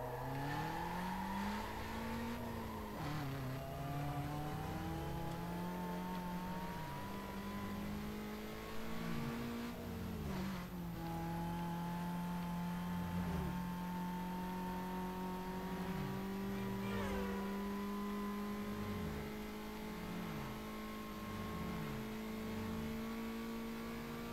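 Engine roar of a car driven in the racing video game Need For Speed Most Wanted, a loud steady drone with repeated revs rising and falling between gear shifts, running throughout with no speech.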